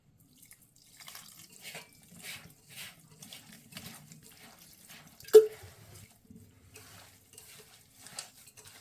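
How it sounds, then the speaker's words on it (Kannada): Water is added to rava (semolina) and mixed by hand for roti dough, giving faint, close dripping and squelching with one sharper splash partway through, all fairly quiet. "ನೀರು ಆ್ಯಡ್ ಮಾಡ್ತಾಯಿದ್ದೀನಿ"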